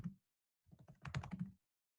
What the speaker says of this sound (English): read what I'm typing